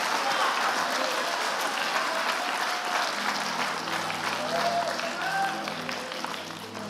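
Church congregation applauding during a French-language service, steady dense clapping throughout with a faint tonal hum entering partway, fading slightly toward the end.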